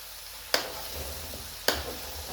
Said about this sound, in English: I'll just give it a good stir